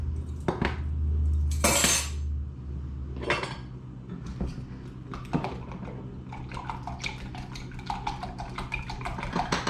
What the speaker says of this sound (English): my egg mixture and give that a good stir